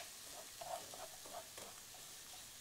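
Rice fries with onion in a pan for an Italian strawberry risotto, a soft steady sizzle with faint stirring scrapes, quiet and close.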